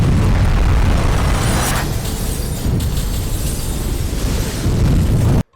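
A movie special-effects bombing of an area erupts in a sustained, very loud roaring blast with crackling debris, then cuts off abruptly at the end.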